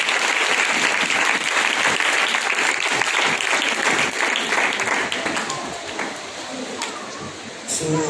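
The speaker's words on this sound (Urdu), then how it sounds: "آئیے ایک دفعہ پھر ہم اپنے خدا کے لیے پرزور تالیاں کریں" Congregation in a church giving hearty applause, loud sustained clapping from many people that thins out slightly toward the end.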